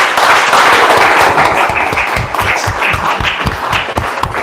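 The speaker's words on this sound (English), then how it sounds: "Give them really a very huge hand clap." An audience at an agroforestry training presentation claps hands together, a loud, dense burst of applause that stays strong for several seconds before thinning slightly.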